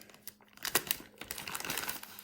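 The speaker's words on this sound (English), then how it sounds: "It's got a nice plastic envelope" Plastic envelope from a Yamaha trumpet maintenance kit crinkles and crackles up close in a short burst of irregular rustles, with no talking.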